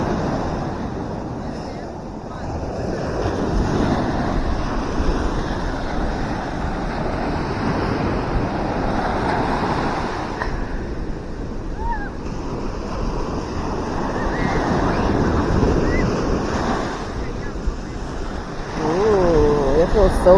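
Ocean waves on Myrtle Beach wash and break in a continuous hiss and roar, with gusts of wind buffeting the microphone and surging louder toward the end.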